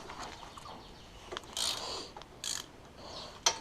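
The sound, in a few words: 13 mm socket ratchet loosening cylinder head bolts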